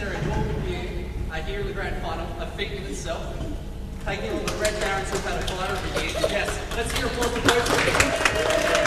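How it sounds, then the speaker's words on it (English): A crowd at the 2017 VDL Grand Final between the Red Barons and Ice Breakers cheers and claps, the noise swelling louder in the second half beneath someone talking close to the microphone. "Crowd cheering for the Red Barons, mainly, I think."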